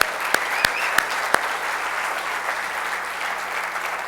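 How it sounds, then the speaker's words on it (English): Conference audience applause at a 2015 keynote, opening with a few sharp, close individual claps before settling into a steady, even roar of many hands. "A round of applause for them."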